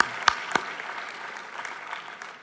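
An audience at a university sports awards ceremony applauds the male athlete of the year, a moderate, even patter of clapping following two sharp louder claps at the start.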